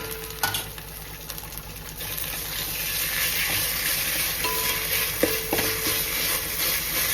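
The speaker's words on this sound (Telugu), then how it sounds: "కొంచెం ఆ పచ్చి వాసన పోయేంత వరకు జస్ట్ ఫ్రై చేసుకోవాలి అంతే." Ginger garlic paste fries in a pan with a steady close sizzle and scattered scraping and tapping stirs running throughout, fairly quiet, with no one talking.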